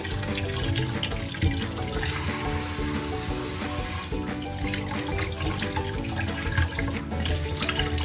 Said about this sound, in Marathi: आपण शिमला मिरची आहे त्याला वॉश करून घेऊ